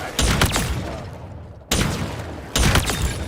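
Three loud, close gunshot blasts from a space gun in the Halo Infinite multiplayer beta, each a sharp burst with a lingering, sweeping energy tail, spaced about a second apart.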